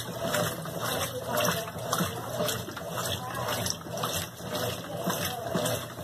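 Water rushes steadily into a Consul CWG12 washing machine as it fills, a continuous splashing gush with a faint pump hum underneath.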